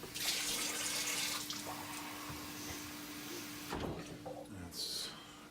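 Water poured into a pot for cooking jasmine rice, a soft, steady splashing stream close by, broken by brief clinks and handling noises against a low background hum.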